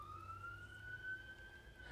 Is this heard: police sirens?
yes